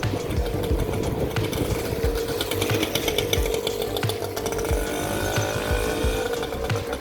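Motorbike engines buzz continuously on a street in Goodlands, Mauritius, loud and close with a steady raspy drone that swells slightly as bikes pass, with no talking over it.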